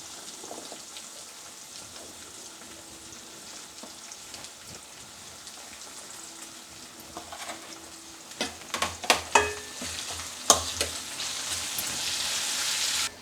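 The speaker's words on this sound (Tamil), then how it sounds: "இப்போ தக்காளியை போட்டு வதக்கலாம்." Tomatoes go into a pan of onions already sautéed for two minutes, with quiet frying sizzle at first, then louder sizzling, clatters and stirring scrapes building toward the end as the pan heats up.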